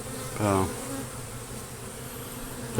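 Honey bees buzz around an opened, understrength beehive as frames of brood are moved, giving a steady close hum with one brief, louder pass from a single bee.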